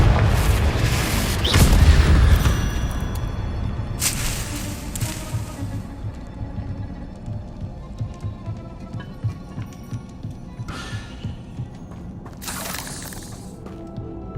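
A loud, deep booming blast from the Confringo spell in the video game Hogwarts Legacy, followed by a decaying rumble with scattered fainter impacts and bursts of crackling debris later on.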